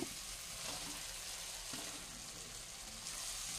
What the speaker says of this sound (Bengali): এবার ভেজে রাখা আলুগুলো এর মধ্যে দিয়ে দেব।